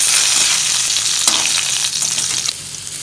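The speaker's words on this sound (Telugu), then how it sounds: "ఈ కలర్ వచ్చేంత వరకు ఫ్రై చేసుకొని" Loud, dense frying in a pan while ingredients for a raw banana curd chutney brown. The crackle is continuous and close, and there are a few stirring scrapes.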